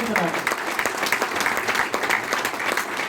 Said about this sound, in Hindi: आप जैसे बेहतरीन लीडर्स के लिए एक बार फिर से तालियां होनी चाहिए